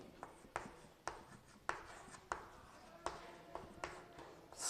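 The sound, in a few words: writing a math equation by hand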